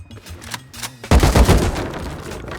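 Video game gunfire: quiet for about a second, then a sudden loud burst of shots that continues as dense, rapid, booming fire to the end, with no voices.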